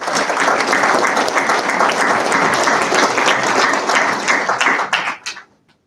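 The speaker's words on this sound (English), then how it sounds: "Please join me in a round of applause in their honor." An audience at a military commissioning ceremony for the class of 2021 gives a loud, dense round of applause that holds steady, then thins to scattered claps and stops abruptly.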